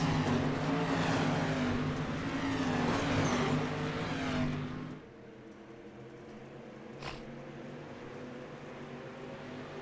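Dirt street stock race cars roar around Lincoln Speedway, a loud steady engine drone for several seconds that drops off to a distant hum as the pack moves away, with no talk over it.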